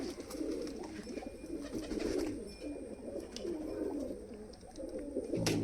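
Pigeons coo softly and repeatedly, overlapping low throaty calls close by, with a few faint chirps and clicks.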